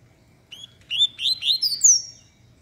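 A papa-capim seedeater sings close by, a short burst of bright, rapid chirps and slurred whistles rising in pitch, clear over quiet low background rumble.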